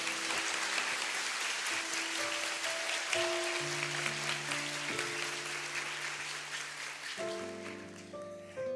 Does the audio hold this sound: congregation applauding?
yes